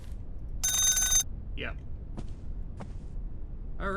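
An alarm clock in a ghost-hunting video game gives one loud half-second ring, followed by faint clicks and a short spoken word.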